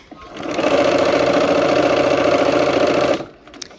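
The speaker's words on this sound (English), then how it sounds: "Okay, kind of match those up, and let's sew." A sewing machine stitches fabric along a bias edge in one steady, loud, continuous whir lasting about three seconds, then stops, followed by faint handling noise.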